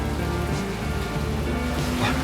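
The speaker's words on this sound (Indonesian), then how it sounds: "Serius, hujan begini" Steady rain falls during a downpour, making a dense, even hiss that is loud and close for the whole stretch, with no clear voices over it.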